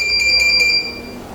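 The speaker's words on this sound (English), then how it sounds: "a H will be displayed with 3 rapid beeps and the courtesy light will flash 3 times." A DC Blue Advanced garage door operator emits three rapid, bright electronic beeps in quick succession, loud and close, followed by a faint room tail.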